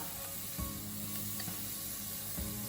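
Chopped garlic sizzling in hot olive oil in a saucepan, a steady, fairly quiet frying hiss with a few faint clicks and scrapes, no voices.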